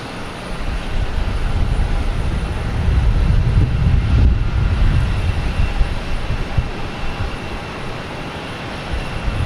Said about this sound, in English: we have JetBlue coming in an A321 from Seattle